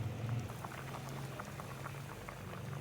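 Sweet plum chutney simmering in a pot, soft continuous bubbling and popping close by, quiet and steady with no voices.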